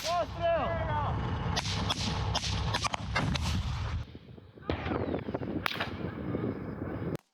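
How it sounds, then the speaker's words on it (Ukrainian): Several sharp, loud blasts from an anti-tank grenade launcher ring out in quick succession at a military training ground, then a pause and a few more bangs, with rumbling echo in an open outdoor space. "доводиться застосувати ручний протитанковий гранатомет. Постріл!"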